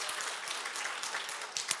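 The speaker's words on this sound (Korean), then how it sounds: "우리 환영의 박수 올려드리겠습니다." Welcoming applause from a church congregation at a Christmas Sunday service, a soft, steady patter of many hands clapping at a distance, fairly faint throughout.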